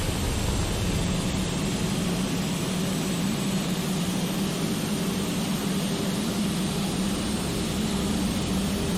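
Me 262 jet engines at full power during a takeoff roll in the flight game IL-2 Sturmovik, a loud, steady, unbroken roar with a low hum that holds for the whole stretch.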